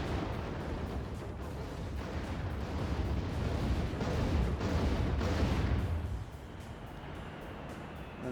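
Artillery pounds a riverbank target in Act of Aggression, a modern real-time strategy game: a dense, continuous rumble of overlapping blasts and booms builds for several seconds, then drops abruptly to a softer background roar.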